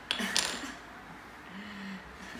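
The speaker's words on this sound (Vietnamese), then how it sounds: "Trời ơi, gõ búa nữa." A wooden toy doctor's hammer taps twice in quick succession near the start, giving short, bright knocks, followed by a quiet room hum.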